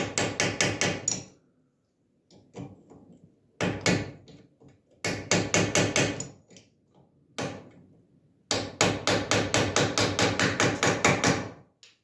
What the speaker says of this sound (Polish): i delikatnie młotkiem wbijamy.